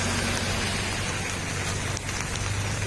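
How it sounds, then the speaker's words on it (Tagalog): Steady, dense rain pouring down in Porac, Pampanga, a continuous hiss of drops hitting surfaces with no voices. "Umuulan pa rin po."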